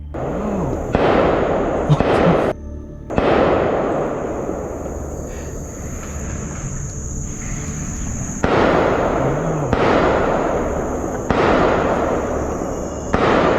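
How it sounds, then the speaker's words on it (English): Loud gunshots crack out at intervals during a hunt, a handful of sharp blasts over a steady background hum, with echoing tails between shots. "sudden gunfire shattered the stillness"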